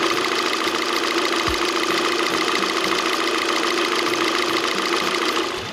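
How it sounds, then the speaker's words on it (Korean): A Hyundai Sonata DN8 engine idles steadily, a continuous low hum with a faint rhythmic knock, close and even throughout. "저희는 엔진 소리 한번 들어보도록 하겠습니다"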